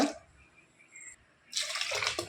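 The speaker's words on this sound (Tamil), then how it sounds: "சேர்த்துட்டு ஒரு ரெண்டு கப்பு தண்ணி சேர்த்துக்கோங்க" Two cups of water splash into lentils being readied for sambar, heard as a short pouring burst, a quiet gap, then a longer, louder pour.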